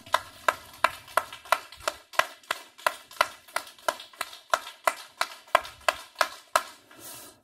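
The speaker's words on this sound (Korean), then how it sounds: "자, 박수 20번 시작." A church audience at a Bible lecture claps in unison about twenty times: sharp, evenly spaced claps at a brisk steady rhythm, with the last one trailing off.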